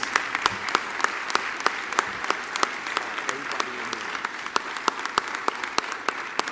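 An audience at a college forum claps for the speaker, a steady bed of applause punctuated by loud, crisp claps from someone near, continuing evenly throughout with light voices underneath.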